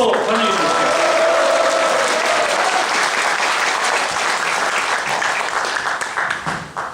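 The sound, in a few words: audience applause welcoming a guest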